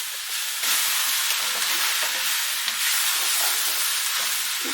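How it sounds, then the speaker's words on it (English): Cabbage and onion sizzle and hiss steadily in a hot pan over high heat, with occasional scrapes and stirring clatter throughout, loud and close with no talking. "just keep it moving, stirring and frying."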